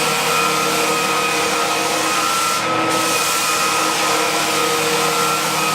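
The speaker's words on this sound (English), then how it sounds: "They are using their legitimate sander to prepare a part of the floor for the sample that we've requested." A professional floor sander works on part of a wooden floor, giving off a loud, steady whining roar with a constant tone that goes on without a break.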